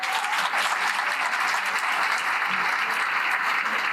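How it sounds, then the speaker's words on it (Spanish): Dense, sustained applause from a lecture audience closing a talk, a loud, even wash of many hands clapping without pause throughout. "Así el cierre, un aplauso más fuerte."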